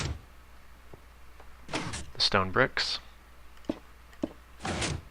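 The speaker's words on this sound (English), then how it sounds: "When I step on the pressure plates, the pistons pull back." Minecraft pistons retracting as pressure plates are stepped on, a few short mechanical thunks and clicks spread across a few seconds, with a voice talking between them.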